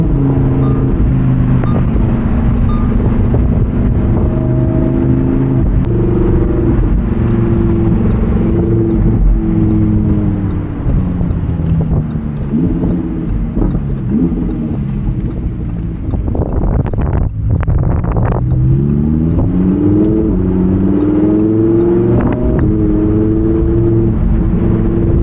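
Lamborghini Huracan Evo Spyder with its 7-speed dual-clutch transmission, engine droning and rising in pitch through gear changes while driving, loud and close with heavy wind noise throughout.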